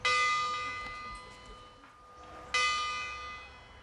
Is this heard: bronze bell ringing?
yes